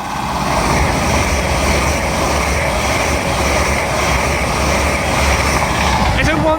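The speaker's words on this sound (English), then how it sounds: "Pass through now will be a LNER Azuma from Edinburgh Waverley to London King's Cross." An LNER Azuma express from Edinburgh Waverley to London King's Cross passing through Grantham station on the East Coast Main Line, a loud sustained roar of traction and rushing air at close range, with a brief metallic squeal near the end.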